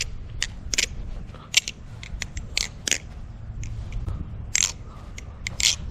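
Close, crisp metallic clicks and clacks from a tuned balisong butterfly knife being flipped, arriving in quick irregular bursts over a soft background hiss.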